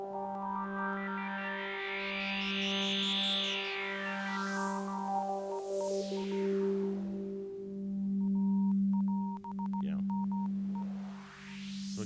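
A Nord Micro Modular synth patch layers a sustained droning note with sweeping filtered noise and a faint, rapid Morse-code-like beeping, all electronic and steady, with no voices.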